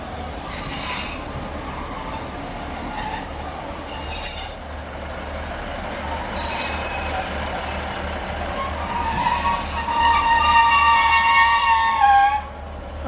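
A Class 156 diesel train on the East Kilbride line rolls past with its wheels squealing in high, shifting screeches over a steady rumble. The squeal builds louder toward the end.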